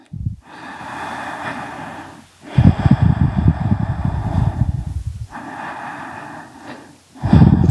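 Slow, deep breaths held during a yoga hip stretch, long audible inhales and exhales in a steady cycle, close and fairly loud with no talk.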